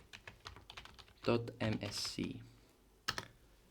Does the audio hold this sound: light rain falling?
no